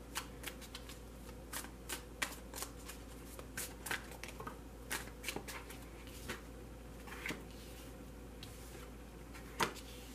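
A tarot deck is shuffled close up, crisp riffling bursts and soft taps in an uneven rhythm, with no talking.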